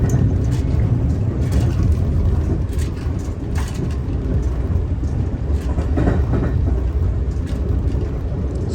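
An Amtrak Cardinal passenger train rumbles steadily along Norfolk Southern rails north of Charlottesville, Virginia, heard from aboard: a dense low roar with faint rhythmic clatter throughout and no voices.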